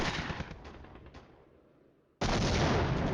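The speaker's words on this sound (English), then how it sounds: "Also plenty of artillery fire." Artillery fire in the wargame Flashpoint Campaigns: Southern Storm crackles as a loud burst of shots that decays into near silence, then another abrupt loud barrage erupts.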